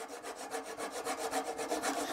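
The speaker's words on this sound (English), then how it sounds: "I have a flush cutting saw, but I'm gonna give it a try" A flush cutting saw trims a wooden nub off a table, giving a steady, rhythmic rasping of back-and-forth strokes, close and fairly loud, with no voices.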